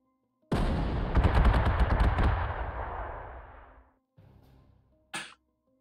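Artillery fire in the strategy game Panzer Corps 2, a sudden loud burst of rapid shots rolling into a long fading rumble, followed by a softer echo and a final short crack.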